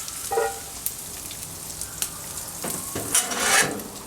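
Browned beef and sausage tipped from a pan into a crock pot with a metal spatula, heard as short scrapes and clatters with a soft wet sizzle, the busiest bursts near the end.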